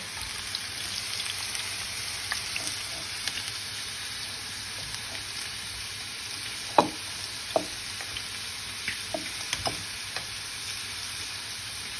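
Cauliflower florets frying in a pan of oil give a steady, close sizzle, with a few sharper pops and crackles standing out now and then.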